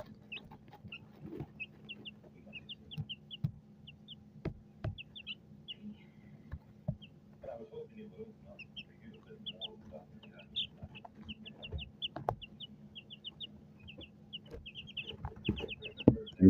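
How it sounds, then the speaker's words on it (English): Chickens give soft, scattered clucks and chirps at a distance, faint over a low steady hum with occasional thumps and light handling noise. "These are the birds."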